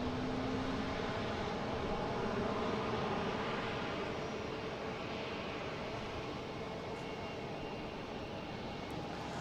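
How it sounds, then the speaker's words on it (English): Delta Airbus A330-900 arriving from Athens at Boston Logan, its broadband engine roar steady and loud across the whole span as the jet passes fairly close overhead. "we have a Delta coming in from Athens"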